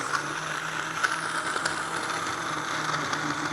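A homemade macadamia nut milk maker runs with a steady mechanical whir and faint ratcheting clicks, a moderately loud, even hum with no voices.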